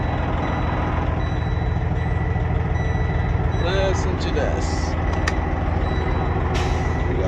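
Freightliner Cascadia truck with a Detroit Series 60 diesel idling warm, a steady low rumble running throughout while someone talks over it and a brief beep sounds partway through.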